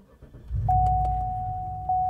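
Cadillac DTS with modified exhaust mufflers starting up: a low engine rumble swells and settles into a steady idle, joined by a sustained electronic chime tone, close and alone.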